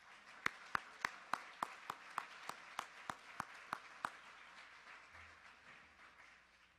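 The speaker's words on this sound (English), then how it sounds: "I would like everyone to clap their hands with me and welcome John Choi to the stage" Audience at a spring gala claps to welcome a speaker to the stage: about a dozen crisp, evenly spaced claps in a steady rhythm, fairly faint, fading into a low room hum.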